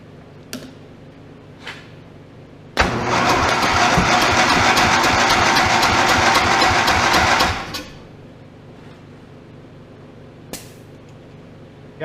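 Engine of an OMC Mustang 310 skid steer cranking over on the starter during a compression test, one steady rhythmic chugging burst of about five seconds, close and loud, with faint clicks before and after.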